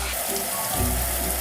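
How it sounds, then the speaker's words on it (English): A pot of water simmering on a home stove, a steady close hiss of small bubbles and faint rumble, continuous and moderately loud with no talk. "The water is simmering"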